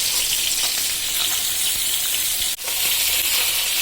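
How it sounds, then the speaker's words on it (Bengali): Onion, garlic and green chillies frying in a pan, a loud, steady close sizzle throughout with one brief break near the end. "আমার পেঁয়াজ, রসুন, কাঁচামরিচ ভাজা শেষ"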